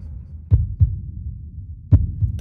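A heartbeat thumps in a slow, steady rhythm of paired low beats, two pairs in all, close and clear over a soft low hum.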